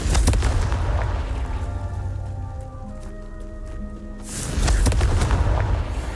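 Confringo explosive curse blasts in Hogwarts Legacy: a loud, broad crackling burst at the start, a quieter musical stretch, then a second rumbling blast that swells and lingers to the end.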